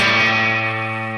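A bright, trebly electric guitar chord on the bridge pickup through a TC Electronic Ampworx Combo Deluxe 65' preamp rings out and sustains, slowly fading with a touch of reverb and distortion.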